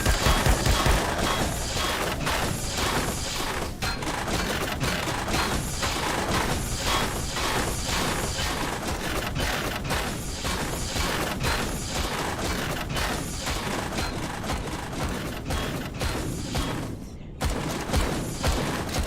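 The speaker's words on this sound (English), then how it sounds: "Shoot him!" Sustained rapid gunfire in the space survival game Empyrion - Galactic Survival: dense, rhythmic automatic bursts go on for many seconds, loud and close, broken only by a brief pause near the end.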